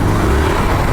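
Steady road traffic in Pasay captured on a GoPro 7, a continuous loud rumble of car engines close by, with no speech.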